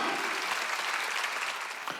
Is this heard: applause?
yes